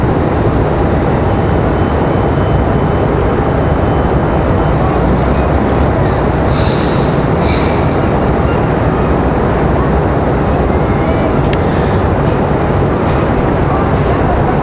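A CRJ-700 regional jet on flight JIA 5452 to Washington, D.C., at Raleigh-Durham airport gives off a loud, sustained engine roar, a dense unbroken wash of noise with a couple of faint brief chirps partway through.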